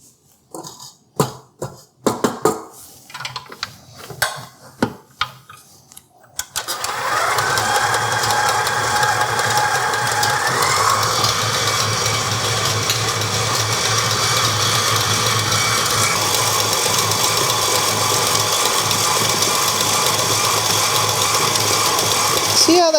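A stand mixer with a paddle beats cookie dough for maple brown sugar cookies, a steady loud whirring drone running continuously for most of the clip after a few seconds of scraping and knocks at the start.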